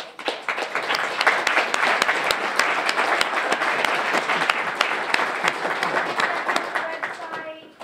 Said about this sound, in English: and you can join me in a round of applause, is Kyra,